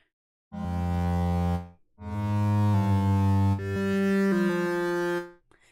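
Synthesized tones from a patch in Bitwig Studio 3's modular Grid play three sustained phrases separated by short pauses, with a buzzy bass drone and a gliding upper line.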